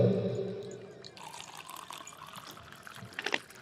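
Water from an alkaline water machine pours into a container: a steady trickling, splashing stream in the foreground, with a brief louder splash near the end.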